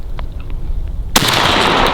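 A single loud shotgun blast during a turkey hunt breaks suddenly from quiet outdoor ambience and rings out with a sustained roar.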